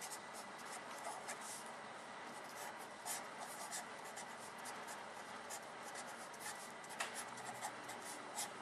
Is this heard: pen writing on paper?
yes